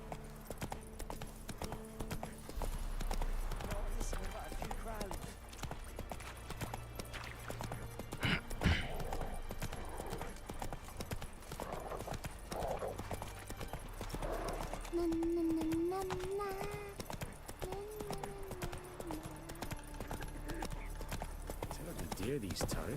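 Roach the horse galloping in The Witcher 3, steady rhythmic hoofbeats running throughout, with game music, other game sounds and a brief whinny-like tone mixed in.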